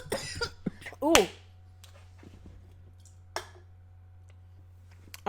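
A person's cough in a quiet indoor room: a short, close, harsh burst around the one-second mark, followed by a few faint clicks and small mouth sounds, with some speech at the start.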